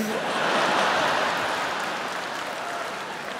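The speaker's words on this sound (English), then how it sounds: "Big applause break from the crowd." A comedy show audience at a Jeff Dunham performance breaks into full applause, a thick burst of clapping that peaks early and then slowly tapers while staying strong.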